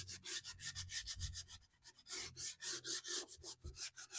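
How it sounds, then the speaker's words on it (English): Painted thrifted furniture sanded by hand to distress it, steady rhythmic back-and-forth scraping strokes, close and clear, with a brief pause partway through and no talking. "Apparently it sands super easy."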